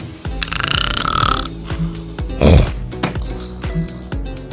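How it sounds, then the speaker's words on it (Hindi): A man snores loudly in a comedic advertisement, with a run of rough, rattling snorts and grunts that repeat in irregular bursts, one deep gurgling snort standing out midway. "आपको सिर्फ 2 तरह के खर्राटे पता होंगे।"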